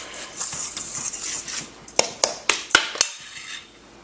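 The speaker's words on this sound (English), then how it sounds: "I stir this with a fork, blending thoroughly, of course." A fork stirs and taps through cheesecake batter with butter in a bowl, making a run of sharp metallic clinks and scrapes close by, grouped near the end, with no talking.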